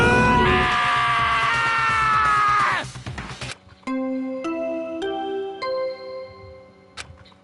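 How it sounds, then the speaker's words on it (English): A loud, sustained scream in the Danganronpa: Trigger Happy Havoc video game lasts about three seconds, then gives way to a string of bright, chiming electronic tones. "I heard screaming!"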